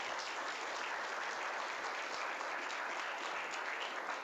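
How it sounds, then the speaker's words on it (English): An audience at a college broadcast show applauds in a continuous, even wash of clapping, fairly distant and soft, with no speech over it. "So if we can have a round of applause for Bernice."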